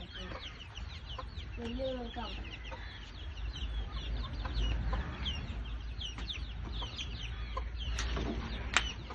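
Backyard chickens cluck in scattered, fairly soft calls against steady outdoor background noise, with a person speaking briefly nearby.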